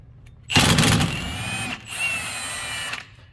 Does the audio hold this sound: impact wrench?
yes